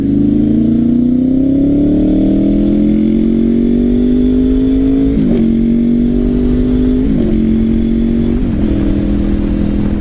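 A sport motorcycle engine revs loudly and steadily, pitch climbing over several seconds, with brief dips as it shifts through gears.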